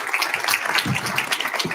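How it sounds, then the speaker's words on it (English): An audience at a spring speaker series event applauds to welcome speaker Katy Bruya, a steady wash of many hands clapping at moderate volume with voices faintly audible underneath. "I'd like you to give a warm round of applause to Katy Bruya"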